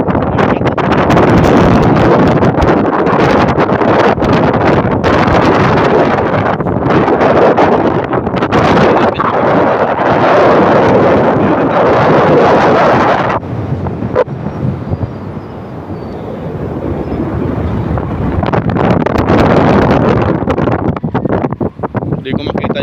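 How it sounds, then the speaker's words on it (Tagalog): Strong gusting wind roars and buffets the microphone in heavy, continuous gusts at a condominium, easing briefly before surging again; a voice speaks intermittently beneath it. "Grabe pag bumubugso yung hangin, parang gusto akong buhatin."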